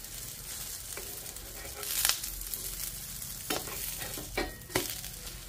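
Egg Maggi noodles cooking in a pan over a low flame, a soft continuous sizzle broken by several sharp scrapes and stirring clatters, with no voices.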